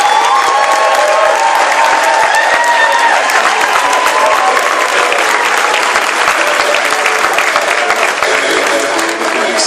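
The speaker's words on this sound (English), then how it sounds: "Please let us rise and give him a round of applause." Loud, sustained applause from a large audience welcoming a guest speaker at the LDI 2014 graduation in the Bahamas, with a few scattered cheers mixed into the dense clapping throughout.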